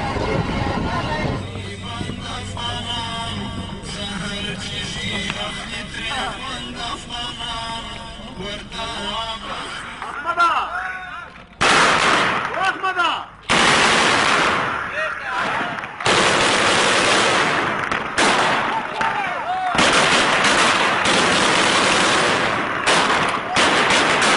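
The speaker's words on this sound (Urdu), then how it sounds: "یہ فائرنگ ایک کمرشل جہاز پر کی گئی جسے طالبان امریکی جاسوسی طیارہ قرار دے رہے تھے۔" Taliban fighters fire automatic weapons at a commercial aircraft in Orakzai Agency, rapid bursts of gunfire crackling outdoors amid wind noise, with voices audible in the first half before the bursts take over.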